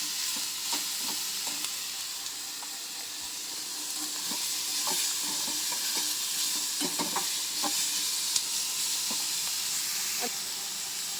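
Cashews and salt brown in a pan, giving a soft steady sizzle and hiss with scraping stir strokes at close range, no talk.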